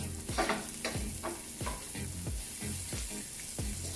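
Chopped onions and other ingredients for ramdon fry over medium heat in a pan, with a steady sizzle and a spoon scraping and stirring in a regular rhythm of about two strokes per second. Close and fairly loud, with no talk.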